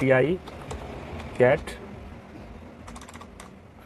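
Computer keyboard typing while filling in an online form, a faint run of light clicks between and under a nearby voice speaking.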